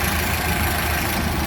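A 1929 Ford Model A Tudor engine idles with its hood side open, a steady, even running sound heard up close with no talking.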